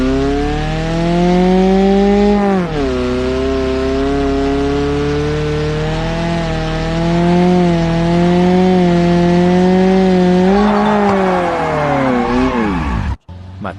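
Daewoo Nexia 1 engine in BeamNG.drive revving hard and close, a raspy, chainsaw-like whine that dips at a gear change early on, climbs steadily, then cuts off abruptly at the end.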